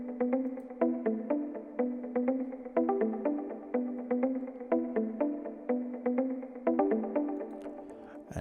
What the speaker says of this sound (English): So it plays like a mute guitar